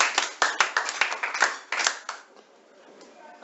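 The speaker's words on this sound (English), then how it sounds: "Please clap for him." A small audience in a classroom claps for a student's presentation on logic gates: a quick burst of sharp, close handclaps that thins out and fades after about two seconds.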